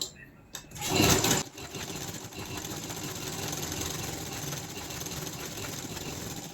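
A sewing machine runs steadily, sewing a long stitch along a marked line while making a seam for a neckline design on a canvas backing. A brief loud burst comes first, then a continuous even whirring hum.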